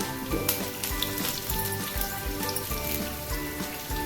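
Dried red chillies and curry leaves crackling in hot oil while cooking chena mezhukkupuratti, a dense close-up sizzle with quick popping spits, no one talking.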